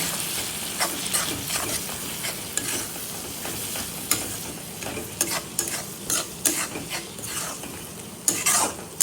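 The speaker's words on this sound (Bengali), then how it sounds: "একটু ধনের গুঁড়ো মস্তটা ভালো করে কষিয়ে নেব" Spiced masala with cumin and coriander powder stir-fried in oil for Bengali egg tadka, a close crackling sizzle with frequent spatula scrapes and clinks against the pan, no talking.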